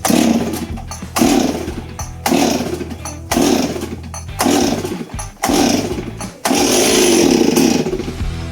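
A Stihl MS 260 chainsaw is pull-started in repeated bursts: short rasping cord pulls and sputtering engine catches with brief gaps between, ending in a sustained loud idle roar close by.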